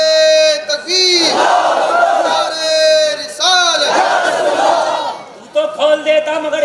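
A large crowd roars a takbir chant in unison at a Muslim religious sermon, loud surging shouts in two long waves with harmonic voices, then a trailing burst of scattered calls.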